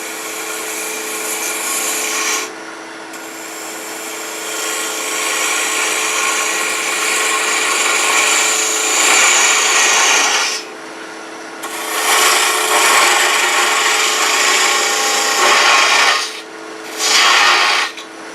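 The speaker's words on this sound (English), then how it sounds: "I'm going to switch to a larger spindle gouge, 1/2 inch" A half-inch spindle gouge cuts wood on a lathe while turning a wobbly Santa, making loud rasping passes broken by short pauses where the tool lifts off.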